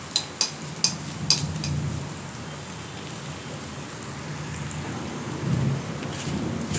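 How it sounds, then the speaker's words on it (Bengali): Dried fish (shutki) frying in a pan, a steady soft sizzle and crackle with a few sharp taps of utensil on the pan near the start, no voices. "শুটকিটাও সিদ্ধ হয়ে গেছে, এখন একটু ভাজা ভাজা করে নামিয়ে নেব"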